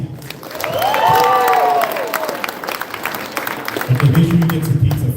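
Audience at a Lindon City centennial painting unveiling applauds and cheers in a brief burst, with voices and shouts mixed into the clapping and a voice coming in toward the end.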